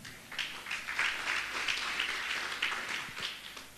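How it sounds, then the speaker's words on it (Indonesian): A church congregation at a worship service claps in agreement, a moderate, slightly distant burst of many hands that swells and holds steady, with no talk over it. "Yang setuju tepuk tangan."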